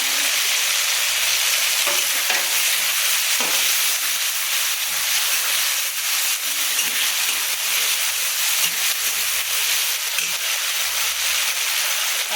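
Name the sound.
dried red chillies sizzling in hot oil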